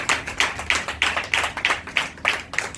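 A church congregation claps for Jesus in an even, steady rhythm of about nine sharp claps, close and clear, with no talking over it.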